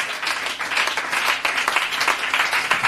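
A church congregation claps and cheers to acclaim the Lord, a dense burst of applause filling the room continuously for a few seconds.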